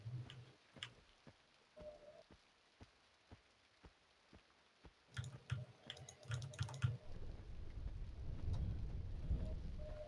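Rain falling in the classic online role-playing game EverQuest, a faint steady patter with scattered sharp ticks and drops, rising to a denser low wash near the end, with no talk over it.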